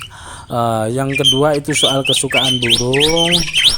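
Asian pied starling (jalak suren) calling up close, a loud run of harmonic, whistling notes and squawks with rising and falling chirps that carries on almost without a break.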